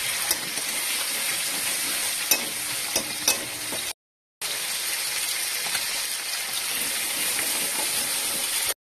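Fish curry spices sauté in a pan with a dense, steady sizzling hiss and a few faint scrapes of stirring, briefly cut by a moment of silence midway.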